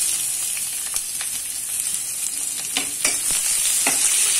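Onions, green chillies and curry leaves fry in hot oil with popping mustard seeds, a steady close sizzle with scattered spatters and crackles and a few soft stirring scrapes, no talking.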